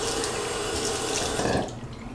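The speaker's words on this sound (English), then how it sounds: "So I'm gonna start by filling this up with water" Tap water pours steadily into the tank of a travel-size water flosser, a continuous loud splashing rush that cuts off near the end.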